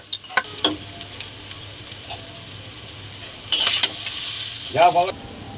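Egg chowmein stirred and frying in a pan, with a soft sizzle and scattered utensil scrapes, then a louder burst of hissing frying toward the end, close by with no talk.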